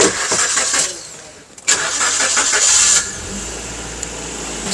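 A 2016 Tata car engine starting at a used car lot in Bengaluru: a brief cranking burst, then the engine catches and settles into a steady idle, heard close and loud.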